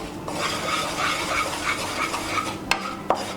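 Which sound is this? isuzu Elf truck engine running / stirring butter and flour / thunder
stirring butter and flour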